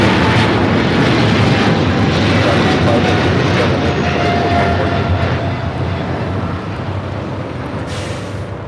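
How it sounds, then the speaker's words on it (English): Heavy, steady roar of a China Airlines Cargo Boeing 777 freighter on its takeoff run, broadband rumble holding loud throughout and easing slightly toward the end, with no talk over it. "This is China Airlines Cargo 5137 taking off to Taipei on a 777 freighter."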